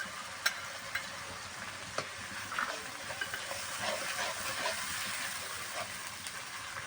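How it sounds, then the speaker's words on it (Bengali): Masala spices fry in a pan with ginger and cumin paste for a jackfruit curry, giving a soft continuous sizzle and hiss with occasional faint clicks of stirring, heard alone at low volume. "মশলাটা ভালো করে ভেজে নেব।"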